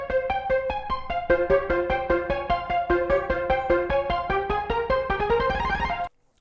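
An ascending synth melody with stereo widening and reverb plays in steady, quickening notes that climb in pitch, loud and alone, before cutting off abruptly near the end.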